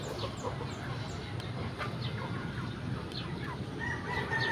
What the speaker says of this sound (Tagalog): sobrang laki talaga yung mga manok nila